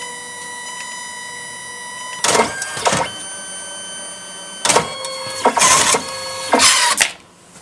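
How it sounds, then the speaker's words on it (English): A photobooth printer runs in a series of loud mechanical bursts: a whirring feed about two seconds in, then a longer pass with several grinding surges and a final push before it stops, over a constant quiet electrical hum. "Printer immediately starts printing within like 3 seconds."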